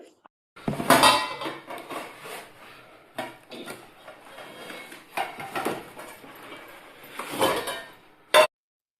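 A 24 cm frying pan and its lid being handled during a home-essentials shopping haul, giving intermittent metallic clinks, knocks and scraping rubs in separate bursts with short quiet gaps, ending in one sharp clank.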